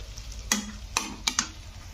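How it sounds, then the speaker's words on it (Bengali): Tomato being sautéed and stirred in a pan for a radish curry: four sharp spoon taps and scrapes stand out over a soft background sizzle, close and clear, with no talking. "কষে নিতে হবে যতক্ষণ না টমেটোটা গলে যাচ্ছে।"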